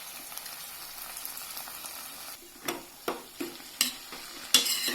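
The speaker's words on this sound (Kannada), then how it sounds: "ಈರುಳ್ಳಿ ಹೀಗೆ ಗೋಲ್ಡನ್ ಬ್ರೌನ್ನಷ್ಟು ಫ್ರೈ ಆದಮೇಲೆ ಇದಕ್ಕೆ ಟೊಮ್ಯಾಟೊ ಹಾಕಿ ಮಿಕ್ಸ್ ಮಾಡಬೇಕು" Tomato stirred into golden-brown fried onions over a low flame for toor dal fry: a steady soft sizzle, then several scraping stirs from a spoon in the pan during the second half, close by with no talk.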